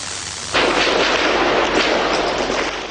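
Gunfire and artillery from street fighting in Bucharest break out suddenly after a quiet moment, then continue as a loud, dense, sustained barrage of overlapping shots and blasts.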